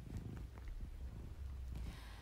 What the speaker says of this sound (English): when a cat purrs and rubs against you, they're expressing affection and trust